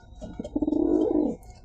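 A single soft, throaty coo from a domestic pigeon, close by and rising then fading over about a second.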